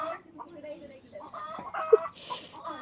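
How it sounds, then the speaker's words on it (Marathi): Chickens cluck and squawk at a distance, a few short calls scattered over a quiet background with faint voices nearby. "कोंबड्या लांब आहे तिकडं पण ती ओरडतात"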